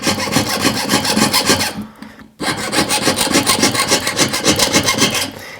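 A jeweler's saw cuts metal plate close to a soldered bezel setting, with loud, rhythmic rasping strokes at a steady pace, a brief pause midway, then continued sawing close up.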